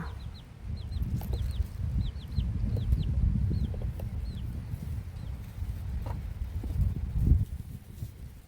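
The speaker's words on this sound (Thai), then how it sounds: "มีไก่อยู่สองแม่มั้งในเฮือนคน" Hens cluck in short bursts at a Lao-Thai home vegetable garden, with small chicken calls scattered over a steady low rumble of wind and outdoor noise.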